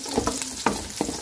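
Garlic sizzles and fries in hot oil in a pan as the base for canton guisado, a steady crackling hiss broken by a few spatula scrapes and stirs, close and fairly loud.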